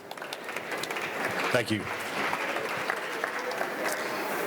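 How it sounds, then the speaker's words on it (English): An audience at an artist talk gives steady, moderately loud applause that fills the room. A brief spoken thanks comes partway through the clapping. "let's give it an applause"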